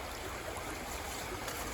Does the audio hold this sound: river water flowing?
yes